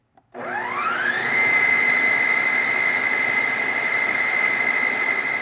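A countertop blender whirs up to full speed and holds a loud, steady high-pitched roar as it blitzes canned beans with vinegar for vegan meat.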